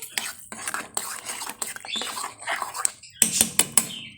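Vermicelli and lentils stirred in a cooking pot, giving a run of soft scraping and clinking utensil strokes against the metal, with sharper taps toward the end.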